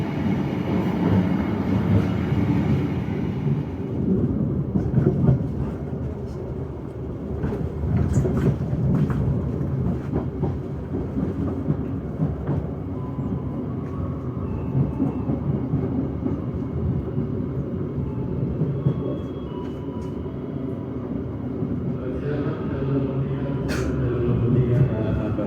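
Motis Tengah economy-class passenger train running at night, a steady loud low rumble of rolling wheels and carriage noise throughout, with faint intermittent rattles and no clear talk.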